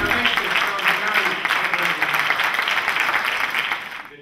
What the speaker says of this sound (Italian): per i quali chiedo a tutti un applauso